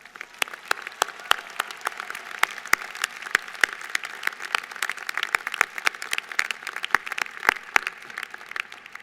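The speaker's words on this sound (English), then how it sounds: "Let's give them one more round of applause." A commencement crowd gives a scattered, moderately distant round of applause, individual claps popping sharply out of a softer continuous patter for the whole stretch.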